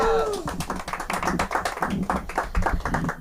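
An audience applauds at a comedy club show, with dense continuous clapping and scattered cheers throughout, close and lively.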